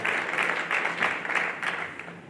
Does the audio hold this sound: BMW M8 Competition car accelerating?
no